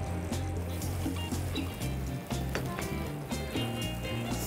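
Steady sizzling and crackling of bell peppers frying in oil in a hot pan, close up, with occasional clinks and stirring sounds.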